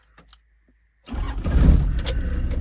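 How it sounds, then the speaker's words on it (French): Keys jingle briefly in near silence, then a 4x4 camper van's engine cranks and catches, settling into a loud, rumbling idle. "Je vais démarrer la voiture"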